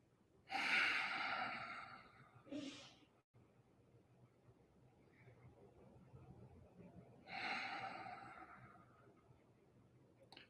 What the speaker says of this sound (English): I'm going to ask you to take a couple of deep breaths.